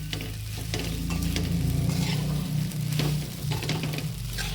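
Sabudana khichdi is stirred in a pan over a high flame, a loud continuous sizzle and frying hiss with a low rumble of the gas, the spatula moving through it steadily without pause.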